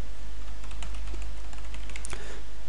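Rapid, steady typing on a computer keyboard while entering a web page section in a tutorial, close and continuous, with a low hum underneath and no talk.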